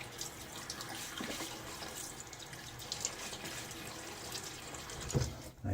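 Cool hard water runs steadily from a tap for several seconds, a continuous splashing hiss with a brief louder burst near the end.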